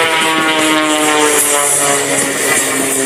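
A Window World MXS aerobatic plane dives and rolls at an Air National Guard open house airshow, its propeller engine roaring loudly and steadily with a sustained drone that shifts slightly in pitch.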